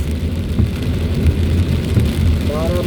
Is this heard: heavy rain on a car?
yes